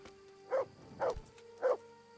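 A dog in the medieval role-playing game Kingdom Come: Deliverance barks three times at a steady pace, each bark short, clear and fairly close, with nothing else around it.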